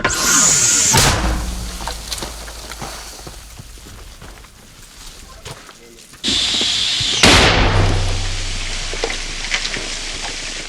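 Two loud, heavy mortar blasts about six seconds apart, each with a sharp crack and rumbling low boom that trails off outdoors.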